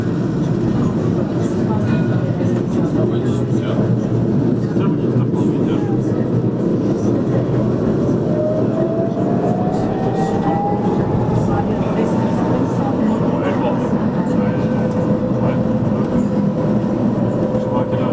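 Interior of a moving TAM tram on line 2 in Montpellier, heading toward Sabines: a steady loud rumble of wheels on rail, a rising electric motor whine partway through, and faint voices in the cabin.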